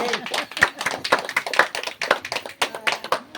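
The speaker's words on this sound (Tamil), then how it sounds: "நல்லா இருந்ததுன்னா எல்லாரும் கை தட்டுங்க" Audience clapping and applause after a Tamil village stage drama, a brisk run of sharp hand claps at close range with voices mixed in.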